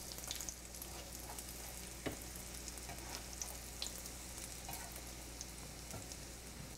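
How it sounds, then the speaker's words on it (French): Crab cakes fry in hot oil until golden, a quiet steady sizzle with a few soft spatula taps and clicks, heard alone without talking. "On va les faire dorer pendant 2 à 3 minutes de chaque côté."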